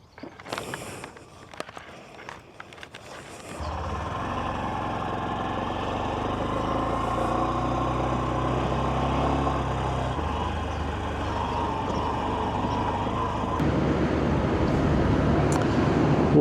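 A motorcycle engine starts after a few close clicks and rustles, then idles and runs steadily and fairly loud, rising slightly near the end, at a campsite before riding off toward the gorge.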